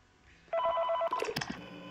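A telephone rings in the horror fan game FNAS Sonic 3 Reburned. A short electronic ring with steady tones sounds close and fairly loud, then fades into clattering noise.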